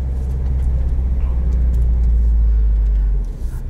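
A 2021 Subaru WRX STI Limited driving, heard from inside as a steady loud low engine and road rumble that eases off near the end.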